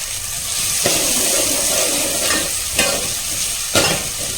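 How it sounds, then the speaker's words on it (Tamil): Chopped onion sautéing in hot oil for a Tamil beetroot biryani: a steady close sizzle, with a few louder scraping stirs marking the rhythm, no voices. "ஆனியன் சேர்த்தாச்சு. ஸோ இப்போ வதக்கிக்கலாங்க"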